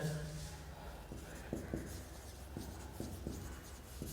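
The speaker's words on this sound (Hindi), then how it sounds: "तो आइए पहले परिभाषा लिखते हैं।" Writing out a definition during a Hindi physics lecture on lateral displacement of light rays, with soft pen or chalk strokes and a few sharp taps scattered over about four seconds against steady room noise.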